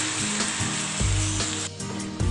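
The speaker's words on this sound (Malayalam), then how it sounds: "ഇനി ഇതിലേക്ക് നമുക്ക് വേവിച്ച് വെച്ചിരിക്കുന്ന മട്ടൻ ചേർത്ത് കൊടുക്കാം" Cooked mutton hits hot tomato masala for a Kerala-style mutton roast, setting off a steady close sizzle with scraping stirs and a couple of dull knocks against the pan.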